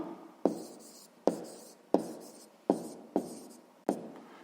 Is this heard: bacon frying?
no